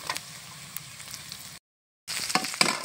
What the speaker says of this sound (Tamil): நல்லா வெங்காயம் வதங்கிட்டு இப்போ நம்ம வந்து பூண்டு சேர்த்துக்கலாம்